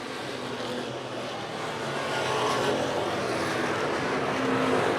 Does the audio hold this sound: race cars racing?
yes